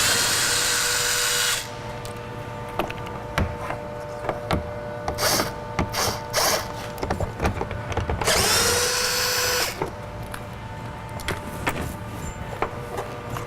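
Power drill backing out 10mm bolts from the door of a 2007-2014 Chevrolet Tahoe during a front window regulator install, close whirring bursts of varying length separated by short pauses.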